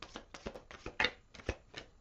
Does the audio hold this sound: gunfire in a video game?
no